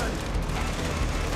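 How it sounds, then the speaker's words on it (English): Gunfire in the Far Cry 3 video game: a dense, steady barrage of shots rolling continuously with no clear gaps, loud and close, with some voice mixed in. "I don't know what Sam is out there shooting at."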